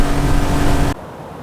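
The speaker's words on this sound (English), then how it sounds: "This is the 40 horsepower 4-stroke Yamaha outboard engine." A Yamaha 40 horsepower 4-stroke outboard engine on an Alumacraft Prowler boat, a close steady motor drone that cuts off abruptly partway through, leaving quiet background.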